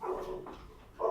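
A dog barks a few times in a room during a live football watchalong, the barks moderately faint and set against a low background hum, with one louder bark at the end.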